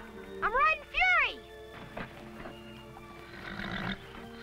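The horse Fury lets out two sharp, loud neighs in quick succession while being ridden by a boy, followed by scuffling, quieter animal snorts and a voice in the background.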